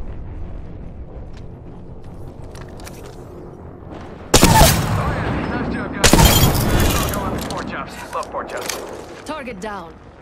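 Gunfire erupts during a video game shootout: two sudden loud bursts of shots with crashing impacts stand out over continuous background game noise and chatter.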